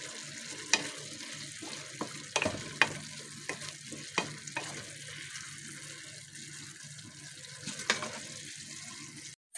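Butter, oil, sugar, cinnamon and spices cook in a covered pot for a couscous dish, giving a low sizzle under scattered clinks and scrapes of a spoon and lid, close by, with no one talking.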